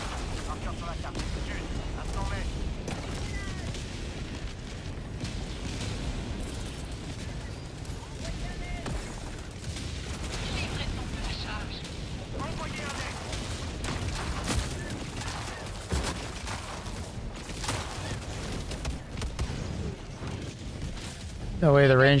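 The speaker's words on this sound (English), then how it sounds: "I don't know what those guys are shooting at" Sustained video game gunfire from soldiers shooting, a dense, continuous crackle of shots heard at middle distance under steady battle noise throughout.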